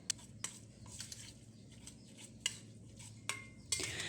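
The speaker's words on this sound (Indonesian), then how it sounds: "pertama-tama aku mau haluskan tahu putihnya seperti ini" White tofu being mashed smooth in a bowl with a utensil, giving quiet soft squishing and scraping broken by sharp clicks of the utensil against the bowl, with no talking.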